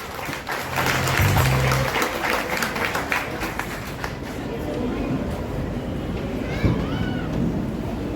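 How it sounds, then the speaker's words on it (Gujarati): Applause at a family community get-together and student felicitation ceremony in a Gujarati village association in Surat, as a speaker named Gautambhai is welcomed; steady clapping from a seated crowd, fairly close, with voices over it. "ગૌતમભાઈ માટે જોરદાર તાળીઓ."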